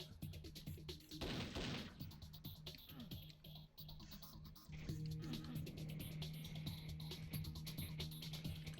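Shots from a Doom weapon fire repeatedly at an object, a fairly quiet run of crunching blasts and impacts under game noise.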